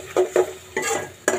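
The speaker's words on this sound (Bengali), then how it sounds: "দেখো আমি ভালো করে কষিয়ে নেব।" Curry is sautéed and stirred in a pan with a little water, four distinct scraping stirs sounding close and loud in an uneven rhythm over a faint sizzle, with no talking.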